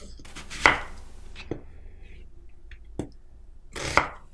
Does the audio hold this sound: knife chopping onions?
yes